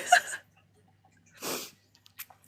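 A single sharp sneeze bursts out after a brief, faint vocal sound, then quiet with a few small soft noises.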